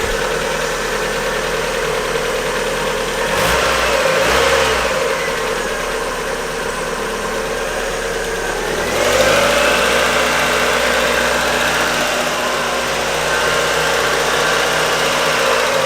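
A Mazda MX-5 Miata NA (first generation) engine idling, a steady close mid-pitched drone with a couple of brief rises around the middle, and no voices.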